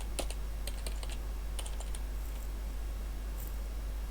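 Computer keyboard keys are pressed in short clusters of taps, a few quick presses at a time with pauses between, close and clear over a low steady hum, with no voices.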